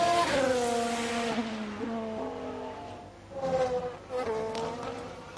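A Formula 1 car engine in F1 Manager 22 at the Marina Bay circuit screams through rising and falling revs with crackles, swelling as the car passes on the camera shots, with no talk.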